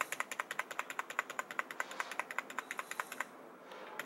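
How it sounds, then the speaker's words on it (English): Rapid, steady tapping of a keyboard's delete key to enter BIOS, about six presses per second, close and crisp, stopping abruptly near the end. "Just keep tapping on the delete key"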